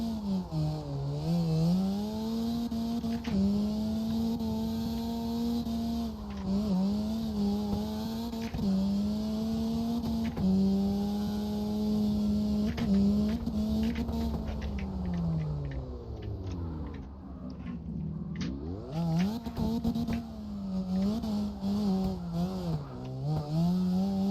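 A car drifts through a turn and drives out under throttle, the engine revving up and down repeatedly, loud and close, with brief lifts and surges over about twenty seconds.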